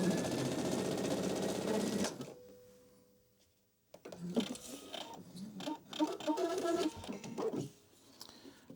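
A sewing machine runs a 3-step zigzag seam along a fabric edge, a steady close whirring hum for about two seconds, then a pause before fainter clicks and bursts of mechanism noise resume.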